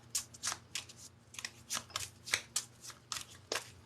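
Playing cards are shuffled repeatedly, each riffle a crisp flutter in a steady rhythm, close up and without speech.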